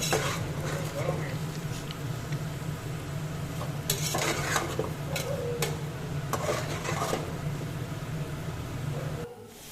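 Rice and lentils lightly frying for vegetable khichdi, stirred in a pot with intermittent scraping and clatter over a continuous low hum and soft sizzle, ending abruptly.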